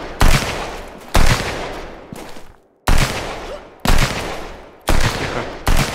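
Loud, close bursts of automatic gunfire in the survival shooter Sunkenland, several long sustained volleys with short gaps between them, no talking over them.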